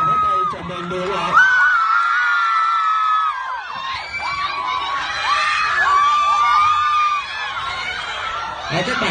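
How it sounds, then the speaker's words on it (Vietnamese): A large crowd of fans cheers and applauds at a fan event in Vietnam with a loud, continuous roar of clapping and shrieks, and a host's voice is heard over it. "chúng ta hãy dành cho Hà một tràng pháo tay chào mừng nữa ạ"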